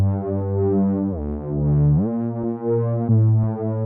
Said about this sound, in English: It would sound like this just as a super saw.